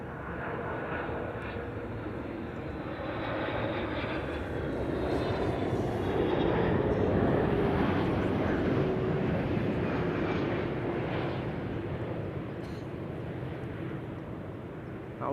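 MAS Cargo plane arriving from Jeddah at Amsterdam Schiphol Airport, its engines a broad steady roar that swells slightly mid-pass and holds loud and near throughout, with no talk over it.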